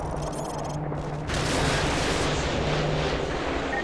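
Heavy gunfire and explosive fire in the war shooter game Call of Duty: Modern Warfare 2, a continuous dense roar of shots and blasts that swells after about a second and keeps rumbling loudly without pause.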